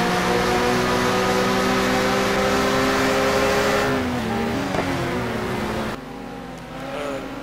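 Race car engines from the 2013 SA simGT Challenge sim racing game at Aldo Scribante roar steadily as they accelerate together, rising and shifting in pitch with loud, dense drive that thins slightly toward the end.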